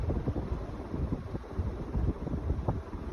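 Older heavyset Palco Classic Concepts ceiling fan blowing air, a close rushing buffeting whoosh of wind against the microphone, steady and fairly loud.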